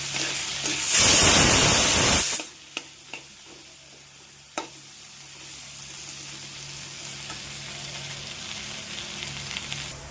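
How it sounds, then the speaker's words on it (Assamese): Salt and turmeric go into a pan of oil with boiled potatoes, setting off a loud rushing hiss for a second or so before it settles into a quieter, steady sizzle with a few clinks of stirring. "এইফালে মই নিমখ হালধি দি দিলোঁ"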